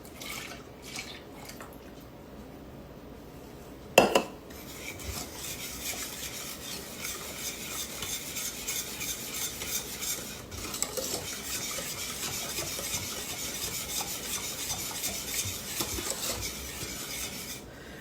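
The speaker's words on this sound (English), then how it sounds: "get them mixed up good before we get too much liquid in it" Milk being stirred into butter pecan custard pie filling in a bowl, a soft continuous scraping and sloshing stir after a sharp clink near the start, quiet and close with no talking.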